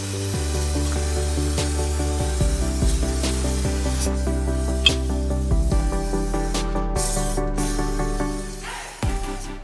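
Rubberized undercoating is sprayed under a truck onto the nuts, bolts and hardware near the brake lines over the differential, giving short hissing bursts over a steady, droning tonal background.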